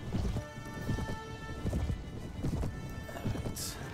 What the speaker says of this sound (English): My horse is incredibly slow at the moment, unfortunately.